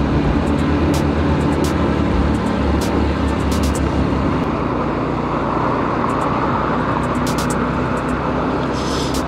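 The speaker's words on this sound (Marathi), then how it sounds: "समोर गाडी जाते राहुलची." Car travelling on a road near Karad, a constant loud engine and tyre drone from inside the vehicle, with faint clicks and rattles through the cabin.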